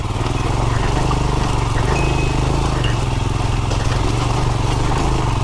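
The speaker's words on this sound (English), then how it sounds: "That's the tractor." A loud tractor engine drones steadily in a deserted quarry, its low rumble and rapid mechanical chug running close and unbroken throughout with no pauses.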